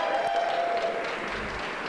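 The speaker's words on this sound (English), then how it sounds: "Let's give him a round of applause." An audience at a keynote event claps in dense, continuous applause that stays fairly even and fills the whole moment before tapering slightly.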